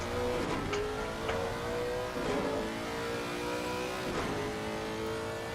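A race car engine at the Nurburgring during an endurance race drones and revs continuously, rising and falling with gear changes, loud and steady throughout.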